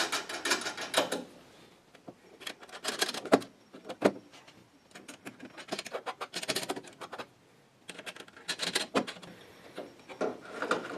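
Nuts are threaded by hand onto studs of a Ford Mustang hood insert, giving close scraping, rubbing and ticking bursts in short irregular spells separated by brief pauses.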